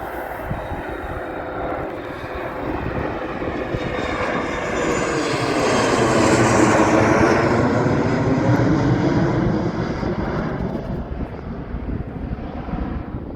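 An Embraer ERJ 145 staff shuttle jet takes off from Warton Aerodrome in Lancashire. Its engine roar swells to a peak and then slowly fades as it passes by at a distance, with wind buffeting the microphone and no talking.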